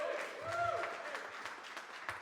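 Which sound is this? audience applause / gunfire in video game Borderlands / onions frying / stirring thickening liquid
audience applause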